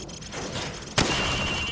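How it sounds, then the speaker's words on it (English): Rifle shot fired from the hip in the video game Call of Duty 4 on a shooting range: a single sharp, loud report cuts through steady background noise about halfway through, followed by a lingering tail. "Now shoot at the targets while firing from the hip."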